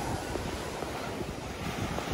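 Strong ocean surf at White Beach in Dasol, Pangasinan, a dense, steady wash of breaking waves close by, mixed with wind buffeting the microphone, and no talking.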